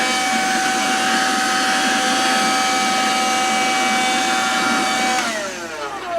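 A handheld cordless vacuum cleaner, one of a Dirt Devil, Dustbuster, Ridgid or Hart, runs loud and steady with a constant whine, then its pitch drops as it winds down near the end.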